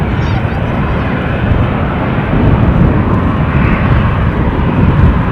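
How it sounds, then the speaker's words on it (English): A KLM airliner departs Edinburgh airport, its engines a loud, steady broadband roar that holds throughout with slight swells, close and dominating, with no talk over it. "This KLM departure should be nice on the eye."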